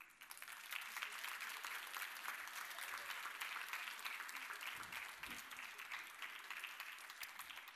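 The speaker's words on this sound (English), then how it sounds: "everybody do give him a big round of applause" A crowd at a panel discussion applauds as a guest walks on stage, a steady spread of clapping with a few louder claps. It sounds fairly distant and even, lasting several seconds.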